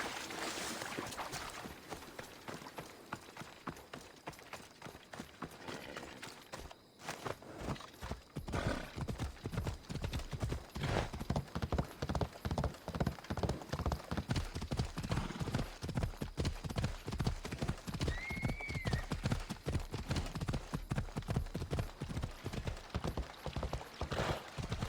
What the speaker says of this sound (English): We'll do it on horseback.